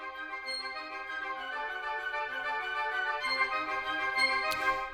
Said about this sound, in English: this very sort of moving, propelling woodwind section